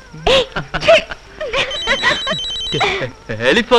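A telephone bell rings in a Telugu comedy film scene, sounding in repeated bright bursts while people talk loudly over it.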